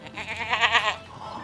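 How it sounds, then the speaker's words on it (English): A single sheep bleat, a wavering, nasal call lasting about a second, close and clear with no other sound around it. "Yes, sheep."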